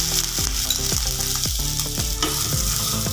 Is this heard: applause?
no